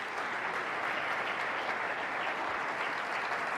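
A church congregation applauds together, a dense, sustained wash of clapping that fills the room evenly and holds steady throughout, with no voices standing out.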